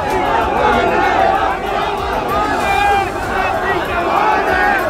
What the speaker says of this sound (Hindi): लाल परेड ग्राउंड के बाहर तो इतनी भीड़ जुट गई कि पैर रखने तक की जगह नहीं बची।